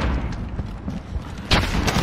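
A grenade goes off in Call of Duty Modern Warfare multiplayer, a sudden broadband blast about midway through a steady bed of booming gunfire and game noise.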